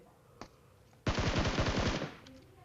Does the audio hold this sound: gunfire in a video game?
yes